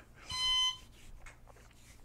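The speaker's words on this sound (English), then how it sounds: "Reverse, unfortunately, it has that disgusting reverse beep." Reverse warning beep from a Mojo automatic folding mobility scooter: a single steady electronic tone with stacked harmonics, fairly loud and close, lasting about half a second, then quiet motor hum with faint handling noises.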